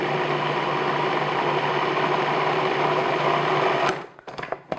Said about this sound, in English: So what I'm going to do is just process this a little, puree them.